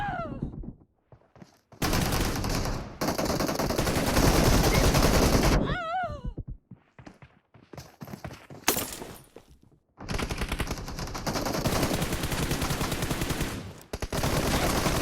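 Rapid automatic rifle fire from an AKM and an M416 in a shooter video game, loud dense bursts of shots broken by short pauses, with faint game sounds between them.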